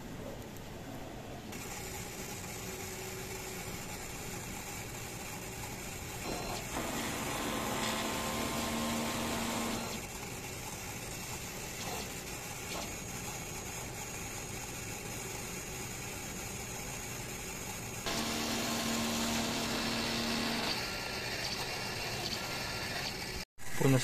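A steady mechanical whirring and rattling runs throughout, with two louder stretches of motor hum and pumping, from a DTF printer cycling through a print head cleaning routine.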